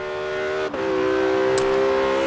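A Porsche 918 hybrid from Forza Horizon 3, its 4.6-litre V8 paired with front and rear electric motors, holds a loud, steady engine drone with a brief dip partway through, like a quick gear change, before resuming.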